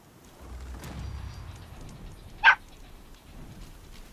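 A dog in the video game Horizon Zero Dawn gives a single short, sharp bark midway through, standing out against a quiet, low outdoor ambience.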